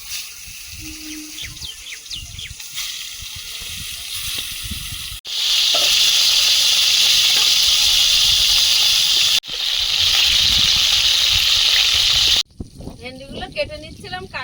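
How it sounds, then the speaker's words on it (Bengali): Loud, steady sizzling of fish frying in hot oil in two long bursts, with quiet talk before and after. "তেল গরম হয়েছে মাছগুলো দিয়ে দেবো"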